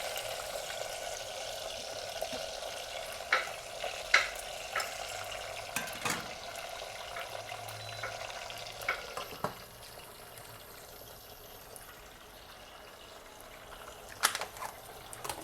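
Food fries in oil in a home kitchen pan, a steady faint sizzle and crackle with a few sharp clinks of utensils, fading quieter toward the end.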